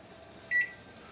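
A microwave oven cooking aloo tikki gives one short, clear beep over a faint, steady hum.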